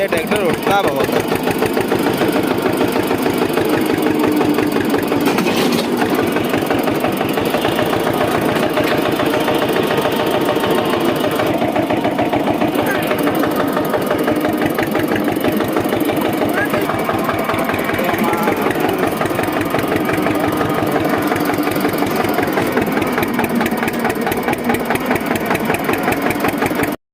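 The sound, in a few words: Eicher 241 tractor engine running during tillage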